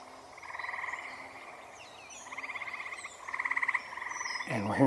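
Frogs croak in repeated trilling bursts across a marsh, several rhythmic rounds rising and falling at moderate distance, with birdsong scattered over a steady outdoor background and no voices.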